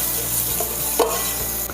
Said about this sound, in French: on va venir les faire suer, notre oignon et notre ail